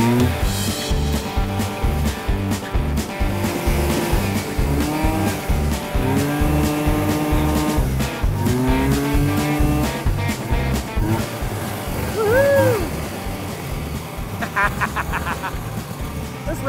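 A 1970 Arctic Cat Panther snowmobile engine runs loud and close during a ride, with a buzzing, rapidly pulsing drone that rises and falls in pitch as the throttle changes.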